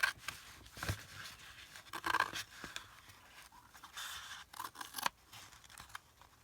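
Scissors snip through a strip of wallpaper for a handmade list journal's binding, giving several quiet, close cuts with soft scraping and rustling between them and no talking.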